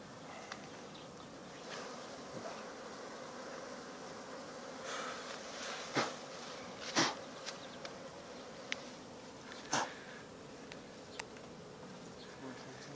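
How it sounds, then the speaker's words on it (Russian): Bees buzz around an opened beehive during beekeeping, a soft steady hum with individual insects droning past the microphone and occasional louder close fly-bys and clicks. "Как раз та пчела улетела одна."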